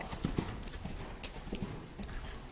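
Hooves of a trotting horse in a riding arena clip-clop faintly in an even rhythm, with soft dull footfalls and light background noise.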